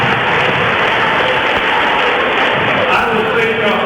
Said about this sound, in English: round of applause for Peggy